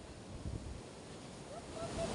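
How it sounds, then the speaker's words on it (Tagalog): Sea waves washing along a shoreline, a steady broad wash with wind rumble against the microphone, one swell at about half a second, and faint tonal noises near the end. "ngayon nandito po ako sa tabing dagat"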